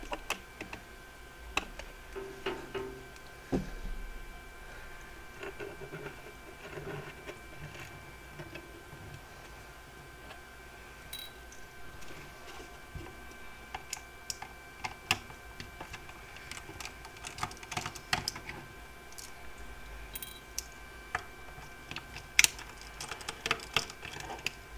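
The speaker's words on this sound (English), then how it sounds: "Let's get the rest of the screws out" Small case screws being backed out of a compact Yaesu FT-817 ham radio, giving faint, irregular ticks and clicks of a screwdriver against metal, close up under a low steady hum, with no talking.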